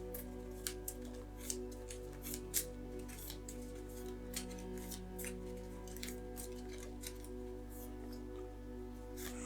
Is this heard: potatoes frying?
no